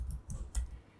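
Computer mouse clicks on a create button, three short sharp clicks spaced evenly over a second, close and clear with no talk.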